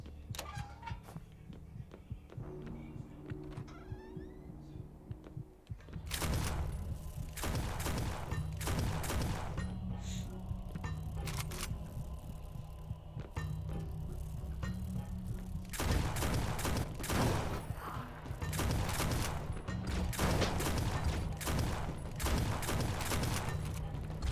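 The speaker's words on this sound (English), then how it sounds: "Stop shooting me." Gunfire in the video game Lovecraft's Untold Stories: after a quieter opening with small mechanical sounds, sustained rapid bursts of shots and booms begin and carry on loudly with brief gaps to the end, with no talking.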